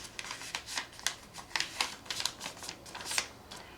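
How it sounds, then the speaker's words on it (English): A sheet of paper being folded in half for bookbinding, a string of faint crisp crinkles and soft creasing rustles that come in irregular bursts. "I'm going to take it and I'm going to fold it in half."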